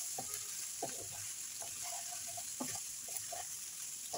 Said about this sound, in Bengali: এরপর নেড়েচেড়ে খুব ভালো করে মিশিয়ে দিব।